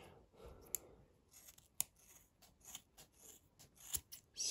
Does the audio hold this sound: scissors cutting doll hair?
yes